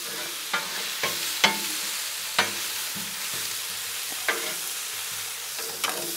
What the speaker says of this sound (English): don't nothing beat the sound or the smell of bacon up on this Blackstone